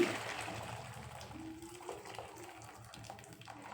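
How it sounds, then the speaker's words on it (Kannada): Water drains from a pot of boiled cauliflower for gobi manchurian, a faint splashing pour that trickles off over a few seconds, with no voices. "ಗೋಬಿಯಲ್ಲಿರುವ ನೀರನ್ನು ನಾನೆಲ್ಲ ತೆಗಿತಾ ಇದ್ದೀನಿ"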